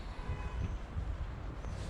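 Train rumbling at Settle railway station, a steady low, broadband roar heard close by without pause.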